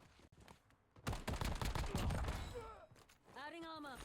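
Bursts of video game gunfire rattle through dense, overlapping clutter while in-game voices and effects run across it, with a rising whine near the end.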